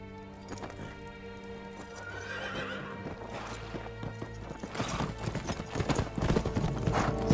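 A horse in Ghost of Tsushima whinnies near the start while hooves clip-clop in a repeated rhythm that grows louder and busier toward the end, set against a steady hum.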